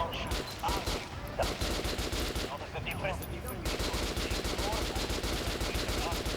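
An RPK machine gun in the shooter game Metro: Last Light Redux fires in loud, rapid sustained bursts, with a short break partway through before the firing resumes.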